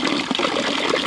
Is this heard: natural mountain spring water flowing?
yes